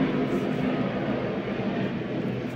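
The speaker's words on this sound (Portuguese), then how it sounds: "Ó, avião." An airplane flying overhead, a broad steady rumbling roar that holds loud and constant throughout, with no talking.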